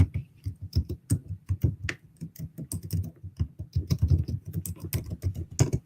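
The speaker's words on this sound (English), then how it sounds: "And we'll type in Jeremy" Keys clatter on a computer keyboard in quick, uneven bursts, close up and fairly soft, with no speech over them.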